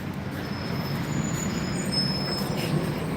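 A train rumbles steadily along a railroad near a gas station, a continuous low roar with faint high wheel squeal, no talking.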